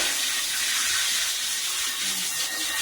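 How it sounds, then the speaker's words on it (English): Tap water runs in a steady hissing stream while dishes are rinsed at a kitchen sink, an unbroken close splash with no voices. "I'm going to go ahead and rinse off some of this stuff"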